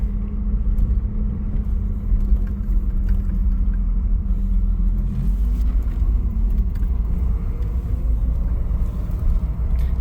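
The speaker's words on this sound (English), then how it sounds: "Let's take it for a quick little drive." A 1981 AMC Spirit DL with a carbureted engine driving, a steady low engine drone and road rumble from inside the car, loud and continuous with small rattles and shifts in pitch.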